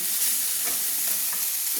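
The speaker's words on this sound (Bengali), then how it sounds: "দেখুন মশলাটা আমার ভাজা হয়ে গেছে মশলা থেকে তেল ছাড়ছে" Spiced masala frying and being stirred in oil in a pan for a soybean dish, a steady close sizzle with soft scraping stir strokes and no talking.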